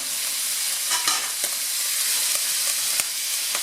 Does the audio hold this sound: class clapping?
no